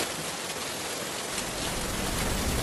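Steady, dense monsoon-storm rainfall hisses continuously, growing a little heavier and fuller partway through, with no voices.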